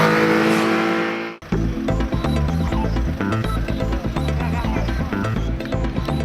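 A rare Alpine A110-1800 Group 4 rally car in competition on the Mont Ventoux hill climb, loud and close, its engine revving hard through gear changes after a brief dropout, with a faint voice underneath.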